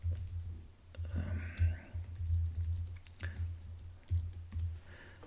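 Computer keyboard typing while notes are entered for a swapper space listing at a car show, a quiet irregular patter of key clicks with soft low hum beneath and no talk.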